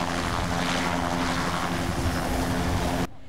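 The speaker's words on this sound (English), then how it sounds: "the Detroit police helicopter lands on the front lawn of HQ" Detroit police helicopter landing on a front lawn, a loud, steady close rotor and engine roar with wind-like rush that holds constant before cutting off abruptly near the end.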